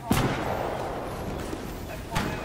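Gunfire in the Fortnite video game: a sharp shot near the start and another near the end, set over a dense, rumbling battle background with no clear speech.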